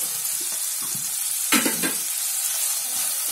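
Chopped potatoes go into a pan of sizzling softened tomatoes, a steady close frying hiss with a brief louder burst and stirring scrapes as they land.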